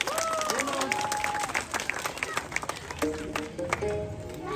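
Applause from an audience at a nursery school cultural ramp show, a steady wash of clapping with crowd noise and children's voices, while a clear whistle-like tone sounds near the start and again toward the end.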